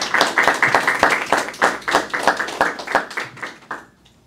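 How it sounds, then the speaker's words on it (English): Audience applause for a cohort of nursing students joining a West Virginia mobile nursing program, a dense burst of hand clapping that holds steady for about four seconds and then fades out quickly. "Please give them a round of applause."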